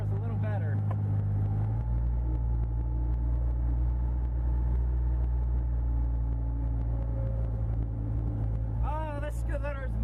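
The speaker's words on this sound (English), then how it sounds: "This skid loader is much nicer." A skid loader engine runs steadily in a barn while cleaning bedding pack pens, a loud, constant low diesel rumble throughout with a voice speaking over it near the end.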